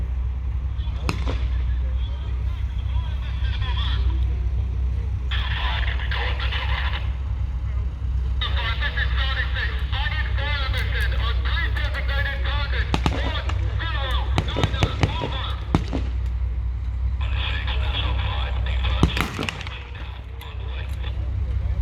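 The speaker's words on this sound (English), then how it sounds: "So that's the heavy artillery coming in." Heavy artillery fire at a Tankfest late WW2 battle reenactment: several sharp bangs scattered across a loud outdoor scene with constant low rumble and crowd, and a voice speaking over it at times.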